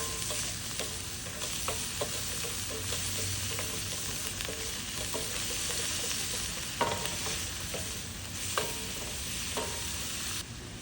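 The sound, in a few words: garlic, onion and scallion frying in coconut oil in a pan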